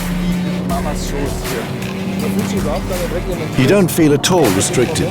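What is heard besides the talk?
BMW M3 driving at speed on the Nürburgring Nordschleife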